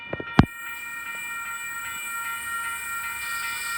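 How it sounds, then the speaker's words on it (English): Oscar intercity train arriving at Wondabyne station on the Central Coast of New South Wales, a couple of sharp knocks at the start, then a steady electric whine and hum as the train draws in. "I think we should have an Oscar about to arrive on platform number 1 for a central service"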